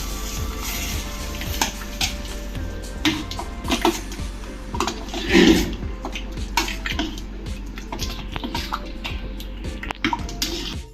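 Sambar being mixed in a cooking pot with its masala and vegetable pieces gives wet sloshing, soft scraping and light clinks against the pot, close and continuous over a low background hum.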